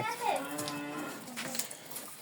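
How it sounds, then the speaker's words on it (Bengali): A cow at a dairy farm moos once in a long, clear, fairly loud low call that slides and holds, with faint barn noise around it and no talk. "ছয় নম্বরে যে গরুটা আছে এটাও বিগ সাইজের একটি গরু"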